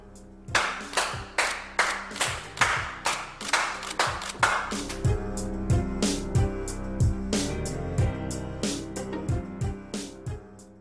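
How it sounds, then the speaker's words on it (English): A person claps their hands during a studio photo shoot, giving a steady run of sharp, close claps in an even rhythm. Ringing tones and background music sit underneath the claps. "clapping."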